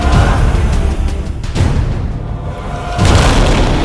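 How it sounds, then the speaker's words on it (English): Muskets boom at a Moros y Cristianos fiesta in Crevillent, producing a dense, loud, continuous roar of overlapping shots that swells in several waves. "Muskets that sound out powerfully first in the morning and again in the afternoon"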